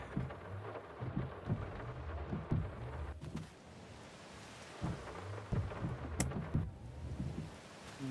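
Steady rain patters while low thunder rumbles roll in and out in several waves, fairly quiet overall, in the video game Farming Simulator 25.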